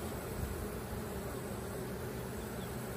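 Honey bees buzz steadily and densely throughout during an inspection of a hive newly set up from a nuc in a 10-frame box, a close, continuous drone with no talking.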